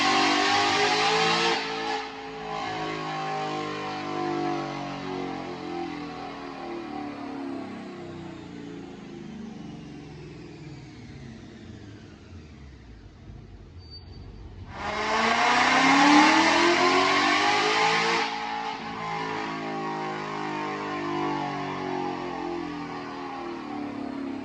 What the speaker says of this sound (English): We're gonna watch a dyno pull